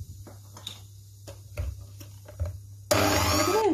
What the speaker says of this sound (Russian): Перемешиваем все еще раз миксером хорошенько.